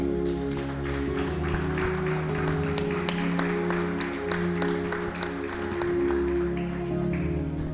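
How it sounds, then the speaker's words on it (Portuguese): Church congregation clapping in praise to the Lord, scattered and rhythmic hand claps over loud, sustained keyboard or organ music filling the room. "Você pode aplaudir o Senhor mais uma vez aí no seu lugar?"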